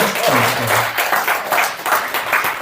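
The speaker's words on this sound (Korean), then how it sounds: "박수 한번 크게 쳐주세요." A lecture audience claps, a loud, close burst of applause lasting a couple of seconds, with a voice briefly heard at the start.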